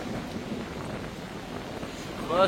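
Strong storm wind during Storm Floriane, a continuous low rushing roar buffeting the microphone, steady and heavy with a slight surge at the end.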